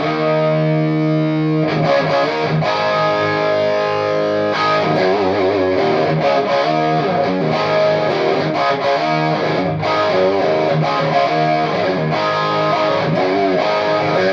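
An electric guitar plays through a Dumble-style overdrive pedal, a dense, continuously loud distorted tone with chords and picked notes ringing throughout.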